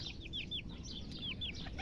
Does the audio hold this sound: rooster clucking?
yes